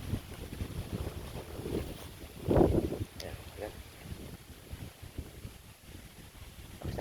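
Strong wind roars steadily across the microphone during a rainstorm on a bypass road, with gusts swelling and fading and a louder rush near the middle; a voice speaks briefly underneath.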